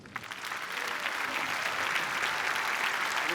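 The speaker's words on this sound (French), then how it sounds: "je vous demande donc une salve d'applaudissements" A large conference audience claps in a steady, full round of applause that swells quickly after a faint start and holds evenly to the end.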